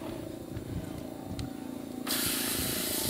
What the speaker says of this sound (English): You need that searing sound as soon as you put it in the pan.